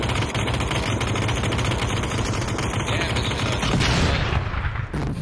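Sustained automatic gunfire fills a shooter video game, loud, dense bursts running almost without a break and ending in a heavier crack near the close.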